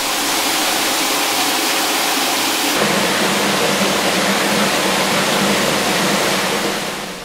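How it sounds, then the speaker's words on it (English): Water is sprayed from four showerheads onto a plastic-matrix column in the CO2 stripping and aeration tower of a partial recirculating aquaculture system, making a loud, steady, close rushing hiss that runs the whole time with no voices. "The water is first distributed through 4 showerhead structures and sprayed onto a column of plastic matrix."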